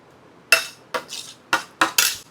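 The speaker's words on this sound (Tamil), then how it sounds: "ரொம்ப நேரே கிண்டிக்கிட்டு இருக்கான்ல" A utensil stirring food in a pot in a home kitchen: five or six short, bright metallic scrapes and clinks in an uneven rhythm, close and fairly loud, with no talk over them.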